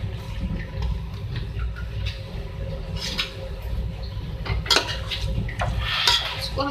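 A spoon scrapes and clatters around a pot of marinated chicken biryani with oil over the flame, a continuous busy mixing sound with sharper metallic knocks now and then.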